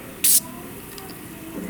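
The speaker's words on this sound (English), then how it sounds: "I'm using some super clean aerosol engine degreaser." One short, sharp burst of aerosol engine degreaser sprays onto a Mahindra 1626 tractor engine, a loud hiss lasting a fraction of a second, followed by quiet with a faint background hum.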